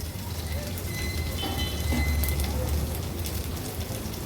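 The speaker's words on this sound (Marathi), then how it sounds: "आता आपण झाकण ठेवणार आहोत आणि एक ते दीड मिनटासाठी ह्याला फ्राय करून घेऊया" Dried salted mackerel (bangda) fries in a covered pan over a lowered gas flame, giving a steady, dense sizzling hiss with faint crackles that continues evenly throughout.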